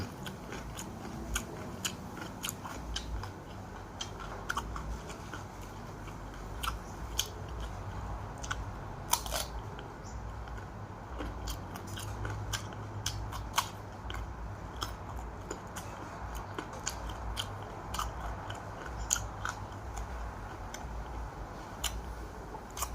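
Crunchy chewing and biting while eating pumpkin sticky rice, a steady run of close, crisp mouth crunches and clicks repeating through the whole stretch with no talking.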